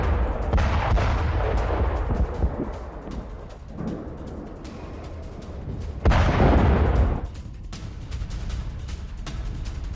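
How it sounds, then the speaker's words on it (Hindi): Airstrikes hit southern Beirut in a news report, with heavy booming blasts and rumbling bombardment, two strong surges of explosive noise over a continuous roar. "राजधानी बेरूत में भीषण बमबारी।"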